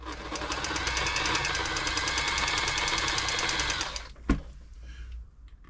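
A Bernette b35 sewing machine motor runs fast and steady with rapid rhythmic stitching, then stops, followed by a single click and quiet rustling.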